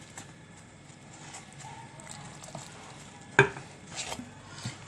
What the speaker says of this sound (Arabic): دلوقتي احنا هنقلبهم كويس جدا مع بعض بالمعلقه